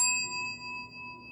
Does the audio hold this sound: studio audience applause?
no